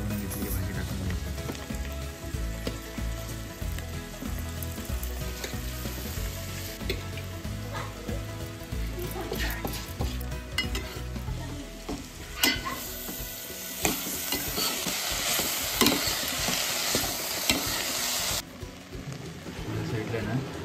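Washed banana flower vegetable added with turmeric to a hot pan sizzles and fries continuously, with stirring clatter and bursts of crackle throughout, loud and close, while a voice speaks at times.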